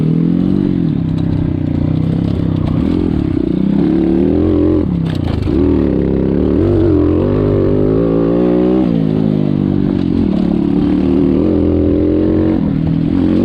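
X-Pro Storm 150 DLX dirt bike ridden hard in an outlaw enduro race, its small engine buzzing loud and close, rising and falling in pitch with repeated revs and clattering over rough ground throughout.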